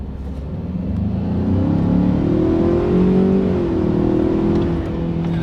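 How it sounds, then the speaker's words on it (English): A 2019 Ford Ranger with its small EcoBoost turbo engine accelerating hard, a loud steady rising engine drone with a slight pitch swell, close and continuous, with no talking over it; the blow-off hiss is not clearly separable. "we got a little bit of a blow-off noise with that tiny little turbo in there"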